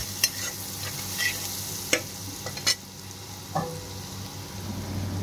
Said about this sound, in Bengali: হলুদটা দিয়েও কিন্তু একইভাবে একটু খুব ভালোভাবে নাড়াচাড়া করে